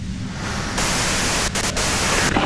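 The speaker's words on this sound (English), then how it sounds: "you can do it through the white noise." Dense hissing white-noise static from the video game Disco Elysium, a steady loud wash that fills the space alone, briefly dipping a few times and swelling toward the end.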